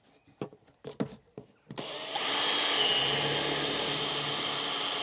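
A power drill bores ventilation holes into a wooden hawk travel box, starting after a few light knocks and clicks and then whining steadily and loudly through the rest of the clip.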